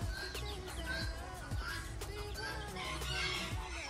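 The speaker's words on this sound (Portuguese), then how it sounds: "aqui, então, é a parte das galinhas" Chickens cluck and squawk in a rural yard, a busy cluster of close and farther calls with an occasional rooster-like crow and other birds in the background.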